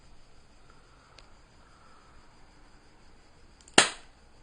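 Cybergun Colt 25 spring airsoft pistol fires a single short, sharp snap near the end after quiet room tone, close by and modestly loud with a quick decay.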